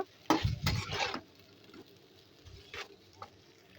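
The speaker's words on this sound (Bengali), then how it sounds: "সেদ্ধ করে রাখা নুডলসগুলো ভালোভাবে একটু নেড়ে চেড়ে মিশিয়ে নেব" Boiled egg noodles being stirred and tossed in a pan, a few soft close scraping and clattering movements, quiet with gaps, and no voices.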